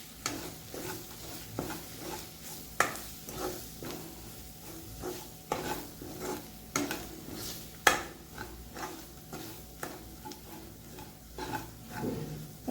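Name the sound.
stirring red chili powder and paneer masala in a pan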